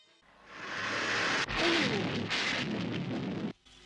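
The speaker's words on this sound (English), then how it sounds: "Enemy missiles destroyed." Sci-fi missile explosions from the Stingray puppet series, a sustained roaring blast with a sharp second burst midway, loud and rumbling for about three seconds before cutting off abruptly.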